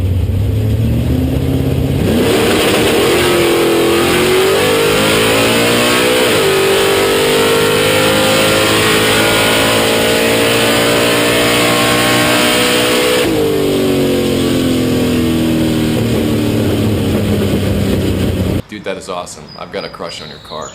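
Chevelle drag car launching hard with its front wheels lifting, a loud continuous engine roar whose pitch climbs through the gears, heard up close for about eighteen seconds before cutting off abruptly.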